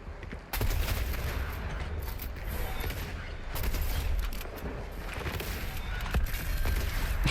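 Dense, loud gunfire from the Fortnite video game, a continuous fusillade of rapid shots and bursts that runs almost the whole time, with sharp cracks standing out near the start and toward the end.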